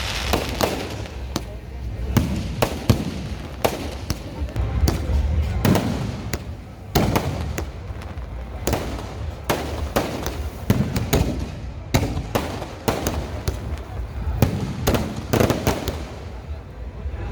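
Fireworks and firecrackers at a village temple fair burst in a rapid, irregular string of loud pops and bangs that continues throughout.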